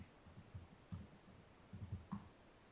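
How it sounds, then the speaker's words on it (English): Officers at a council meeting type on computer keyboards, quick irregular clusters of soft clicks, faint in a quiet room. "They're madly typing."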